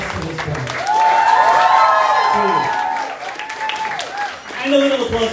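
A crowd at a gathering breaks into applause and cheering that swells early, holds steady for a few seconds, fades, then flares again near the end, with voices shouting over it.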